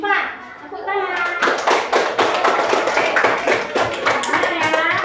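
Fifth-grade schoolchildren clap hands in an elementary classroom, a dense burst of brisk, close clapping that starts after a brief spoken line and continues steadily with children's voices underneath.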